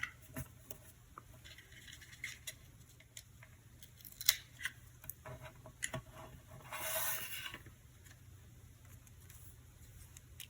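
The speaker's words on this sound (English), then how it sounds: "I'm going to trim off the excess." Scissors snipping the excess paper off a pop-up shadowbox card, a series of crisp, quiet cuts at an uneven pace close by, with light rustling in between and no talk.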